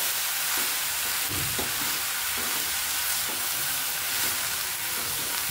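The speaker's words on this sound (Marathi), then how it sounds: "आता आपण ही भाजी आपण परतून घेऊया।" Vegetables for veg spring rolls sauté on high heat in a pan, a loud continuous close sizzle with occasional stirring scrapes throughout.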